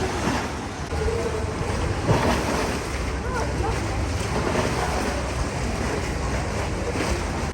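Sea waves at Santa Maria di Leuca on a hot day, a continuous broad wash of surf mixed with wind buffeting the microphone, steady and fairly loud throughout.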